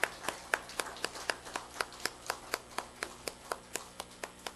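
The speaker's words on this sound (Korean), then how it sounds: "우리 하나님께 영광의 박수 같이 올려드리겠습니다" A church congregation claps together in a steady unison rhythm during worship, about four sharp claps per second, crisp and evenly spaced.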